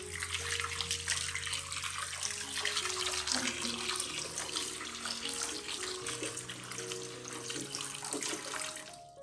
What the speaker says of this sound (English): And finally pour water to cover the eggs in the basin.